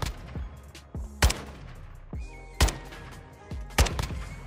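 Four sharp, loud gunshots ring out at uneven intervals, each followed by a short echoing tail, from a weapon loaded with hollow-point ammunition fired at the shooting range in Call of Duty Warzone 2.0, with faint softer thuds between them.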